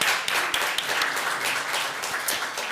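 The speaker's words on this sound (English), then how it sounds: "That deserves a round of applause." Audience applause at a school district board meeting, a steady wash of many hands clapping close by, even and continuous throughout with no voices on top.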